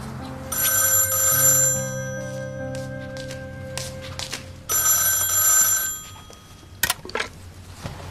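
A telephone bell rings in an indoor home setting, two long loud electronic ring bursts separated by a pause, followed by a few brief clatters as the receiver is picked up.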